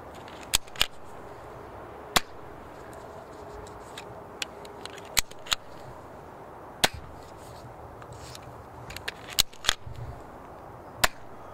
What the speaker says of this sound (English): We're shooting 5 elite darts.